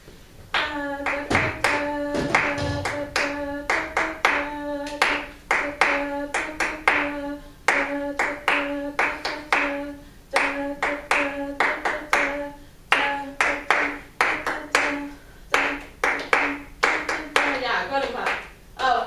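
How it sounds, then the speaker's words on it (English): A group clapping together in rehearsal, rhythmic patterned claps repeated in steady bars with brief pauses between phrases, alongside a sustained tonal sound, close and fairly loud. "So let's reclap that."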